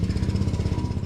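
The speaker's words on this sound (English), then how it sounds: "the neighbor is mowing their lawn right now" A neighbor's lawn mower drones steadily nearby in a small residential yard, its low engine rumble loud and continuous with a rough pulsing texture, no voices over it.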